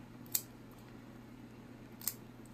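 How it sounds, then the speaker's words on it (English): Two sharp, crisp clicks of nail clippers snipping a pet's nail, about two seconds apart, close and quiet against a faint steady room hum. "Go ahead and expose your nail and start to trim."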